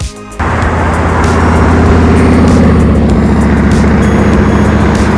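A Harley-Davidson Coast Glide motorcycle fitted with a Vance & Hines exhaust and tuned with a street tuner idles close and loud, a steady, throaty low rumble that picks up after a brief quieter start and holds evenly throughout.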